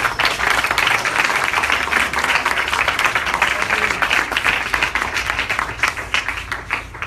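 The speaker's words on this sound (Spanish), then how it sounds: "Recibimos con un aplauso" Audience applause welcoming a pastor at a church presentation on Calvinism and Arminianism, a thick, steady clatter of many clapping hands that continues evenly and thins slightly toward the end.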